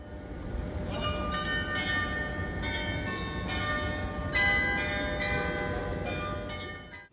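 Glockenspiel chimes ringing out over Marienplatz in Munich, a sequence of clear tuned bell strikes forming a melody with lingering overtones, moderately distant above the open-square ambience.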